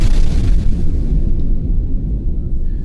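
A designed explosion sound-effect layer gives the blast its pushing breath: a dense, heavy low rumble that starts loud and slowly fades, heard alone.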